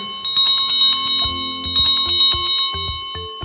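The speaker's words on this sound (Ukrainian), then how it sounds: "Сьогодні діти, школярі щасливі, за парти сядуть, дзвоник продзвенів." A school bell rings on the first day of school, September 1st, in Dnipro: a bright electric bell ringing loud and steady in two long bursts with a short break between them, with no voices.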